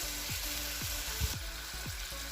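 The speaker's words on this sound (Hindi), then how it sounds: "इसको 4 से 5 मिनट हल्की आंच पे हम भून लेंगे" Chicken pieces fry in a pan with browned onions and salt, a steady close sizzle with a few soft stirring scrapes and no voices.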